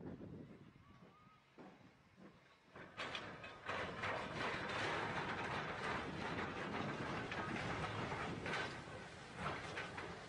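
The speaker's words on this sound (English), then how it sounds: "Oh my God, the train's breaking." A train passes on rails in a rising rush of rumble, rattling and clatter that quickly grows loud and stays dense and sustained. Quieter background noise comes before it.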